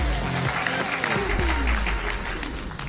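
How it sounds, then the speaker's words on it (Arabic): An audience at a DevFest tech event in Tiaret applauds, dense loud clapping close by with some cheering voices mixed in, continuing steadily for a few seconds. "يعطيكم الصحة، صفقوا على روحكم"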